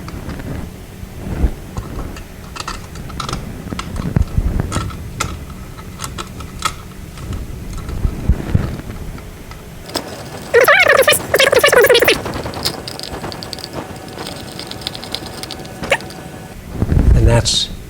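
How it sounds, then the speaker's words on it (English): Two screws are driven in to fix a light fixture bracket to an existing electrical box, with two loud buzzing bursts of a powered driver, the first longer and the second short, among small handling clicks and taps. "we're going to screw our 2 screws in that then secure the bracket to the existing box in the house"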